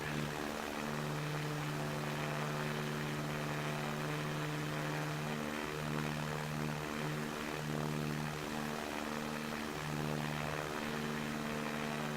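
A propeller airplane in the game SimplePlanes skims low over hills, its steady, loud engine drone holding throughout with no voices.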